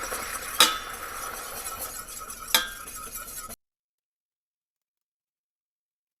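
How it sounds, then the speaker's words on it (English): Flour whisked into melted butter in a pan while baking an apple pie, a low steady scraping stir with two sharp clinks of the whisk against the pan, then sudden silence partway through. "take your whisk, take your flour over here,"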